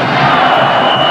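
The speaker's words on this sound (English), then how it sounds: "This crowd is really alive." Stadium crowd at the 1982 Cotton Bowl Classic football game between Alabama and Texas, cheering in a loud, steady roar that fills the whole moment without a break.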